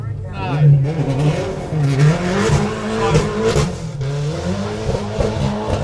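The Subaru Impreza rally car, car number 6, sits at the start line of a forest rally sprint and pulls away, its engine revving hard and building, with a commentator talking over it throughout.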